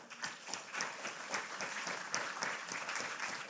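Applause from a lecture audience, dense sustained clapping with faint crowd noise, fairly quiet and distant throughout.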